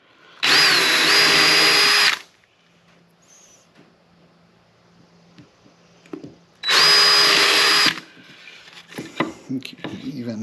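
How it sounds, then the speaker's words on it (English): A power drill whirs loudly in two sustained bursts of about two seconds each as it drives screws into a wooden bird house, separated by quiet handling and light clatter. "we're just going to go ahead and put a couple of screws."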